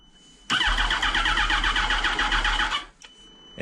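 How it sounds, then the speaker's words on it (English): A 2007 Yamaha R1 motorcycle with a battery-drain fault cranks over in a workshop: a loud, fast, even whirr of the starter turning the engine for about two and a half seconds, then stopping abruptly. "It cranks."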